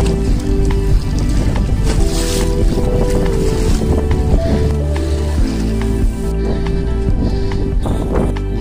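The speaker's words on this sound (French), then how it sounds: "il y a du vent et tout" Wind buffeting the microphone and rushing across the Saône river during a kayak trip, loud and continuous with water lapping close by.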